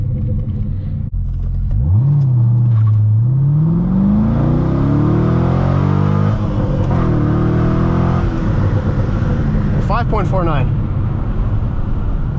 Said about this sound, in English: this would be a great straightaway for us to do the 0 to 60 on